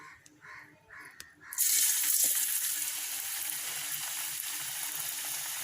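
Elephant foot yam chips dropped into hot oil for deep frying, bursting into a loud, steady broadband sizzle that holds close and continuous after a brief quieter lead-in.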